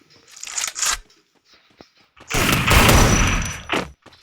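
Gunfire in a Free Fire ranked battle royale match: a couple of short crackling bursts, then a loud, dense fusillade of rapid shots lasting over a second, close and harsh.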